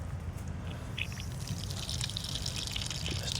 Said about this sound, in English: Just let some water on